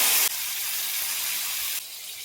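A bright, steady hiss of turmeric sizzling in hot oil with abrupt shifts in loudness at the start and near the end; close, no voices.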